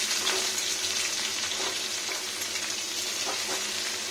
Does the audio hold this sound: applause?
no